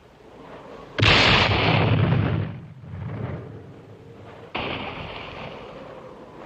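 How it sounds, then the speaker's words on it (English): Mortar shells burst in a jungle film battle: a sudden loud explosion with a broad roaring tail, then a quieter rumble and a second sharper blast rolling on, no talk over it. "Our mortar has hit their mines."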